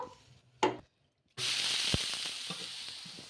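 Tomato semiya dosa batter hits a hot pan with a sudden hiss that settles into a steady, moderate sizzle, with a few small knocks and a quieter sound just before it.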